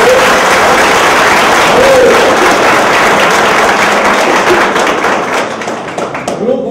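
Audience at a spiritist centre claps for a presenting group, brisk close applause that holds strongly then thins and fades toward the end, with some voices underneath.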